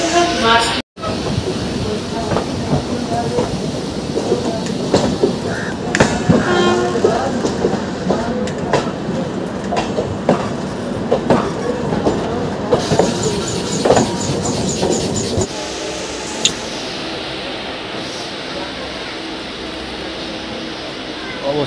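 A crowded South Eastern Railway local train from Santragachi to Howrah rolls along with a loud, continuous rumble and rhythmic clatter heard from inside, joined by hissing and a brief higher squeal, with the running noise thinning out near the end.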